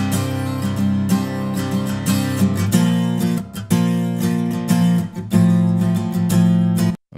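Strummed acoustic guitar recorded dry without room ambience, loud close chords ringing in a steady rhythm with a brief drop near the end, no voices.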